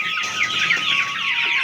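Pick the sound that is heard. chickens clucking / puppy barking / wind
chickens clucking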